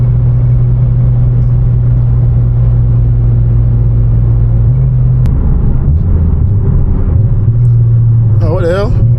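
A 700-horsepower supercharged Infiniti G37 roars loudly on a back road, its engine note drifting and then shifting pitch as it accelerates. Near the end a rising whine cuts through, and voices talk over the engine.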